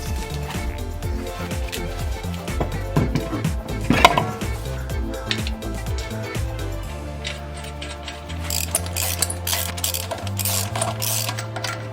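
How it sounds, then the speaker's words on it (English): Jeep wheel going back onto the hub after a brake repair, with a run of sharp metallic clicks and taps up close, then steadier mechanical whirring and ticking from hand work on the lug nuts. "We can throw our wheel back on."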